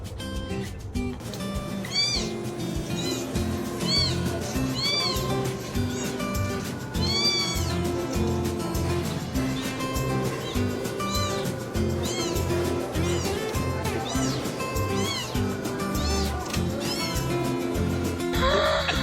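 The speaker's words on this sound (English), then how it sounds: "I told you it was a little kitty." A little kitten meows repeatedly in high, plaintive cries throughout, heard over continuous background music.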